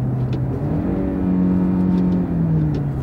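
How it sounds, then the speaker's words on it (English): A modern car with a crisp manual gearbox is driven in second gear, its engine note holding a steady droning hum that shifts pitch as a quick downshift blips the revs. It sounds close and continuous from the cabin, with no talking. "Downshift. Hey, hit downshifts quick."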